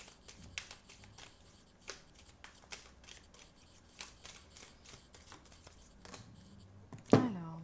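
Tarot cards shuffled by hand in a quiet room, soft repeated riffling and flicks, ending in a sharper slap as a couple of cards fall loose near the close.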